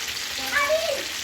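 Rui fish fries in a pan after being flipped to cook its second side, giving a brief, quiet sizzle and crackle close by.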